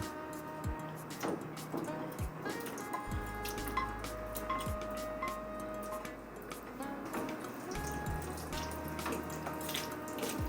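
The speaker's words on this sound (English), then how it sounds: "Pour some water into the jar, save the liquid for later." While Pad Thai is being cooked, water splashes into a jar with soft drips and trickles, quiet and close, heard alone among light kitchen clatter.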